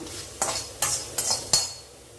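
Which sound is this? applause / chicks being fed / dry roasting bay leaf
dry roasting bay leaf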